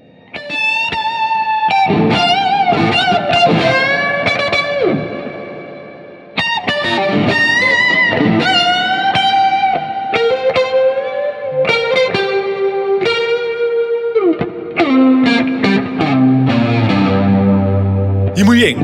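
A restored 1980s G&L electric guitar plays a run of distorted notes and chords through effects such as chorus and echo, loud and continuous with brief pauses, ending on a descending line.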